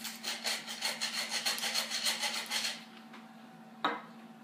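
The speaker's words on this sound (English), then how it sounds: "and then we whisk that all together" Milk, cream, a pinch of nutmeg and pepper whisked together in a bowl for quiche Lorraine: quick, even, rhythmic scraping strokes for about three seconds, then a single light clink.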